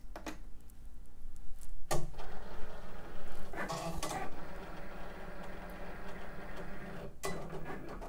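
A Cricut cutting machine slicing vinyl whirs and clicks mechanically, with the carriage shuttling back and forth and a few sharp clacks as it moves, steady and close with no talking.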